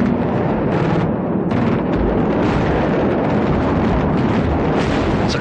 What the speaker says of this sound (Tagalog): Parang ulan ng patak ng bomba.